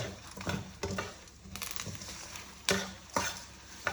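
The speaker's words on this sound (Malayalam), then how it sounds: "എല്ലാം വറക്കണം. എണ്ണയിൽ തന്നെ വറക്കണം." Garlic frying in oil for a curry, stirred in a pan: a steady sizzle broken by scraping stir strokes and a few sharper clacks against the pan.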